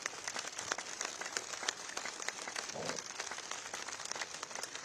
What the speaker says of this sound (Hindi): एक ताली थोड़े बजाए आनंद से, बहुत स्ट्रेस आउट करेंगे, अच्छे से स्ट्रेस आउट, जोर से ताली